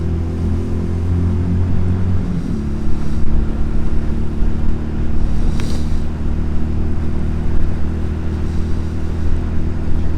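A Honda CD200 motorcycle engine, fitted with the wrong carburettor needle, idles roughly, with a steady, close, low rumbling drone that wavers unevenly throughout.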